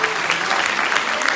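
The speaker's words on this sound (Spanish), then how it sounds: "Vamos a darle un fuerte aplauso al Señor" A church congregation breaks into loud, dense applause, a brief, steady wash of many hands clapping close together without pause.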